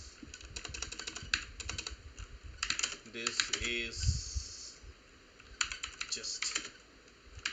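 Typing on a computer keyboard while writing text in a Linux terminal editor, bursts of quick close key clicks with pauses between them, under a man's occasional speech.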